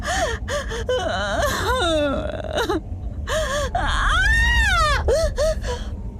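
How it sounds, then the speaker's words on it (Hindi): Drawn-out, wavering sobbing and gasping cries fill a horror story scene, loud and continuous with rising, quivering moans and sharp intakes of breath and no spoken words. "सिसकने की आवाज बढ़ने लगी।"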